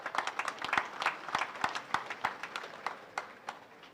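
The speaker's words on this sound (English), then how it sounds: "please let's clap for them" Applause at a university graduation ceremony, a scattered, fairly faint spread of claps from a crowd in a large hall, with sharper individual claps standing out from the softer wash.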